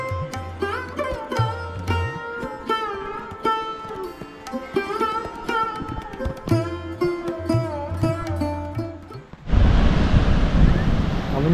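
Ocean surf rolling onto the sea shore below Korlai Fort near Alibag, a loud broad wash of waves breaking in at the end after a long stretch of music.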